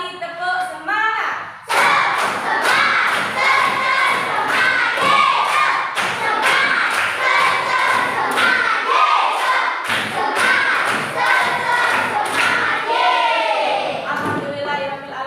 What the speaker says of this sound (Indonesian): Satu kali tepuk semangat. Dua kali tepuk semangat. Tiga kali tepuk semangat.